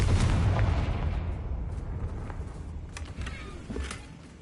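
A Confringo fire spell explodes in Hogwarts Legacy, a loud booming burst that rumbles heavily at the start and slowly fades, with a few sharper crackles and pops trailing behind.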